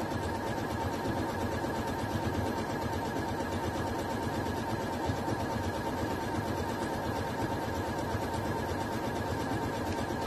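A Baby Lock sewing machine stitches decorative stitches, giving a steady, even mechanical whirr that runs without a break at moderate level.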